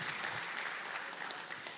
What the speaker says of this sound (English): Please another resounding round of applause for her.